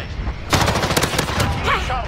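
Rapid gunfire from a multiplayer match in Call of Duty Modern Warfare, dense bursts erupting after a brief lull and continuing loudly with layered shots and clatter throughout.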